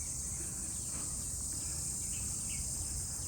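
Crickets near a river in the wooded countryside of Panvel keep up a steady, even chirring drone, faint and continuous with no voices, a bird call or two barely showing through.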